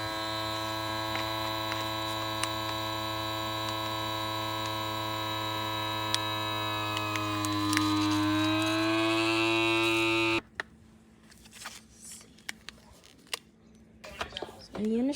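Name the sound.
small cheap vacuum sealer running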